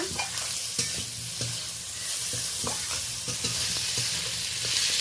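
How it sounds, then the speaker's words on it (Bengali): Onion, tomato and green chili stir-fried with tempering spices for a mixed vegetable dish, a steady close sizzle broken by repeated scraping stirs of a spatula against the pan, with no voices. "মোটামুটি আমি একটা কষিয়ে নিয়েছি পেঁয়াজ, টমেটো, কাঁচা লঙ্কা ফোড়নের সাথে।"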